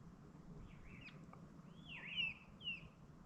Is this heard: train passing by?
no